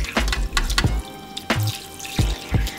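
Cold tap water runs and splashes into a sink as cooked saltfish is rinsed for a Trinidad-style buljol, with a few sharp drips and knocks against the basin, close and fairly loud.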